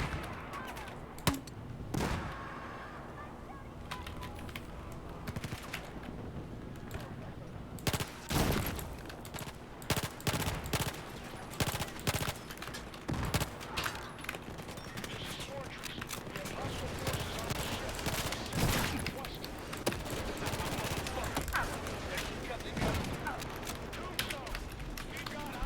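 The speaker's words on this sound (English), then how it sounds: "Ooh, more shotguns." Shotgun fire in the video game Battlefield 4: loud booming blasts at irregular intervals amid other battle noise, with a player talking over the action.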